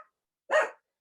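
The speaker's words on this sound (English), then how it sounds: "I knew my puppies were going to make noise." A single short, sharp bark from a puppy rings out once after a brief silence, fairly close and loud.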